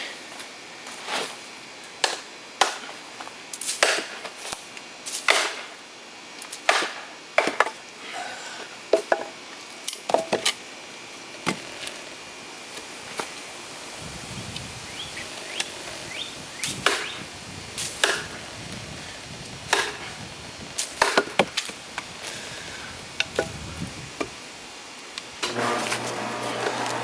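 A Schrade hollow-grind knife blade is struck hard into an oak hardwood log, giving a series of sharp, loud cracking knocks at irregular intervals, close by over a faint steady background hum.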